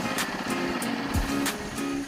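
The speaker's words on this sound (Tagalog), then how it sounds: "So, press the remote and then ilagay mo lang sa start button yung knob, tapos turn on the engine." A Fekon Mini Scrambler 150 motorcycle idles with a steady low engine drone and faint rhythmic pulsing, close and even throughout, with no talking.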